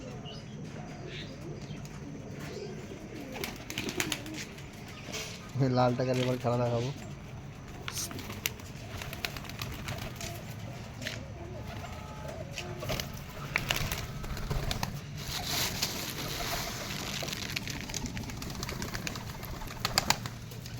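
Pigeons at a home loft coo softly in the background while someone talks over them almost throughout, with one louder, clearer burst of cooing partway through.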